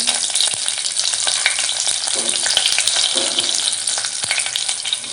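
Cumin seeds, curry leaves and a green chili crackling in hot tempering oil, a loud, close, continuous sizzle with sharp pops and spatters throughout.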